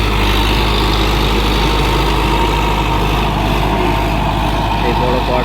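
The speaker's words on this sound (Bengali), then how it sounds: "এই বড় পাওয়ার টিলার দিয়ে জমি চাষ করে নিচ্ছি।" A large power tiller engine ploughing a farm field, running as a loud, steady, low diesel drone with no breaks.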